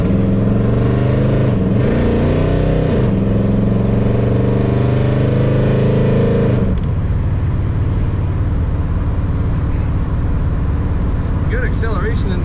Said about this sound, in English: Good acceleration in this car.